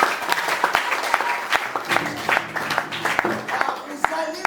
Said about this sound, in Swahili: Hebu wapigeni makofi wapendwa.